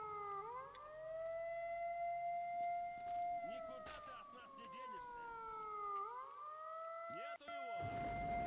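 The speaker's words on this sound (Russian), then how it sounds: "эта сирена меня с ума сводит" A civil defense siren in S.T.A.L.K.E.R. wails in long rising and falling sweeps, loud and close, with a second tone layered over it and brief voices and game sounds breaking in.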